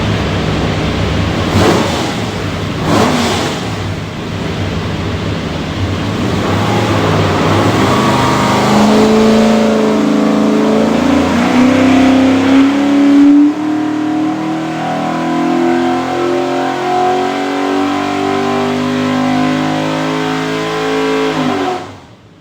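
A stacked 427 engine with a hydraulic roller cam and an Aviaid oil pan, built for a GT40 replica race car, runs on a dyno. It roars loud and close, rising steadily in pitch through a long pull before cutting off.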